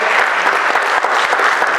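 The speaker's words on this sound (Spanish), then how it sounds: "Démosle un buen aplauso a esa iglesia." Loud, close applause from a Baptist church congregation during a Spanish-language service, dense rapid clapping filling the whole brief moment without a pause.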